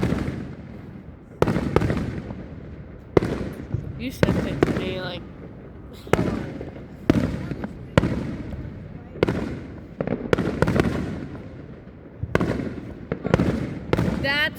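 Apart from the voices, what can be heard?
Fourth of July fireworks exploding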